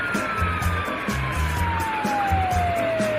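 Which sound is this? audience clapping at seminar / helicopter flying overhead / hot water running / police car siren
police car siren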